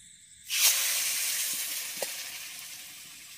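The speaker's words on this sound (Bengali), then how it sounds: "চিনির রসটা ফুটে উঠেছে" Sugar syrup boils in a wok. A bright, steady hiss starts abruptly and then carries on evenly at close range, with no talking.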